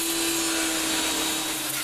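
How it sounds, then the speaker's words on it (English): A Ryobi 1700 PSI pressure washer running while a dirt bike is washed, a loud, steady motor drone with a constant whine and hissing spray, close and unbroken. "All I use is a 1700 PSI Ryobi pressure washer."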